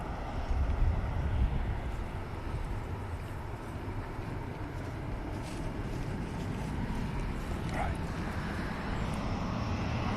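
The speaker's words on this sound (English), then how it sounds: "beginning its taxi, spooling those engines up." A Hainan airliner at Manchester Airport spools up its engines to begin taxiing, a steady broad distant roar that holds constant under wind noise for the whole stretch.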